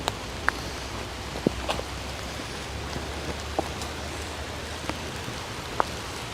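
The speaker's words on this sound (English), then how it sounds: "Well, that rain, when it decided to break free, it's coming down good now." Heavy rain comes down steadily near a homeless camp with tents in Alaska, a dense continuous patter with a few sharper drip and tap sounds scattered throughout.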